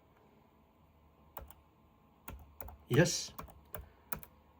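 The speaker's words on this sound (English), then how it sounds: "use the keyboard and type." Sparse keystrokes tap on a laptop keyboard, a handful of sharp clicks spread unevenly with a brief cluster near the middle, and a short word is spoken quietly.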